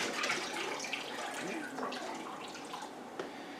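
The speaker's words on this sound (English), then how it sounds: "So my clean jug is full of the sanitizer solution. I'm going to go ahead and empty that out." Sanitizer solution poured out of a jug, a steady, faint gurgling rush of liquid with a few small splashes and drips toward the end.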